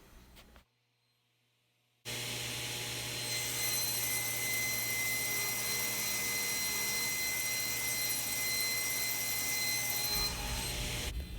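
Table saw ripping hard maple strips into runners for a crosscut sled, a loud steady whine that continues for about eight seconds after a short quiet pause.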